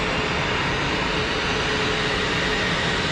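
Iberia Airbus A320neo at Geneva Airport, a loud, continuous engine roar that is dense and steady across the whole moment.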